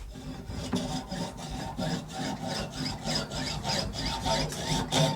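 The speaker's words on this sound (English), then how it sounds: "So here I go back to sawing." Fast, rhythmic rasping strokes of a fine hand saw cutting pearl inlay for a mandolin, steady back-and-forth at close range.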